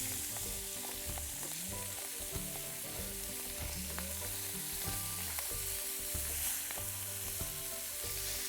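Fish frying in plenty of butter in a pan over coals for a shore lunch, a loud continuous sizzle with bubbling and occasional soft pan sounds, no talking.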